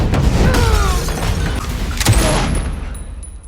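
Rapid gunfire in a war movie battle, a dense barrage of loud cracks and booms from start to finish with a few brief whistling tones mixed in.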